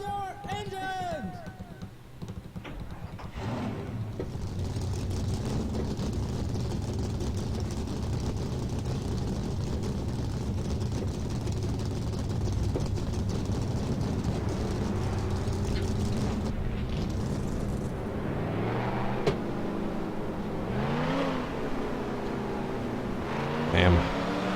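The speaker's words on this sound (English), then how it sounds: "Drivers, start your engines!" Stock car engines in the NASCAR Racing 2003 video game fire up together and rev in a sustained low roar, with a voice talking over the steady engine drone and some rising whines near the end.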